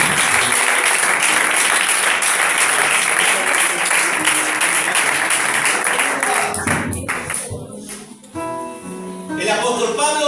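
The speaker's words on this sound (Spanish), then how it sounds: "Le damos un fuerte aplauso a Dios." Church congregation at a Spanish evangelical service gives loud, sustained applause for several seconds, which then thins and fades as voices and music-like tones take over near the end.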